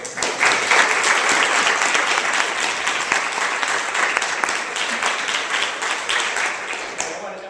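Audience at a university health care reform panel discussion gives loud, sustained applause, dense clapping filling the room and slowly thinning toward the end, with some voices mixed in.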